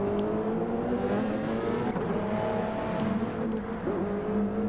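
A race car engine in a racing video game drones steadily at high revs, a loud, continuous whine with slight pitch shifts as the car accelerates, sounding close and alone.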